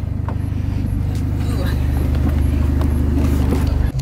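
Cadillac ATS 2.0 turbo with a Mishimoto intake and straight pipe pulls under way, its loud, steady low exhaust drone filling the cabin with a faint whistle above, while people talk over it.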